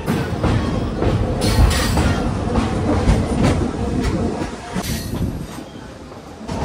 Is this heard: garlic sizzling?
no